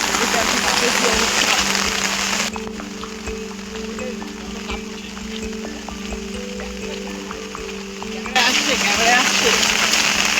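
Rain falls steadily on an open village field, dropping quieter for several seconds as a low droning hum takes over, then returning in full.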